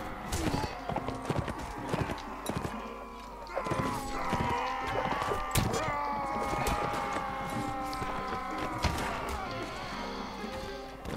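Horse hooves galloping in the video game Mount & Blade: Warband, rapid clip-clop beats close and loud throughout, mixed with game battle noise and someone talking over it.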